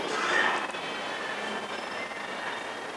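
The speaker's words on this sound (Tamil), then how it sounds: "நார்த் இந்தியாவை நோக்கி அந்த ட்ரெயின் போயிட்டுருக்கு." A passenger train heading toward North India runs steadily, a continuous rolling rumble with faint metallic wheel squeal, moderately loud and even throughout with no voices.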